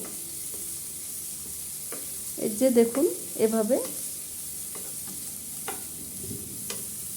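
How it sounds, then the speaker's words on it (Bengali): Onion and chili powder frying in a pan for vegetable egg noodles, a steady soft sizzle throughout with a few scraping stir strokes, while a voice speaks briefly in the middle. "একটু পেঁয়াজ এবং মরিচ গুঁড়ো ভেজে নিচ্ছি খুব বেশি ভাজবো না মোটামুটি ভাজবো"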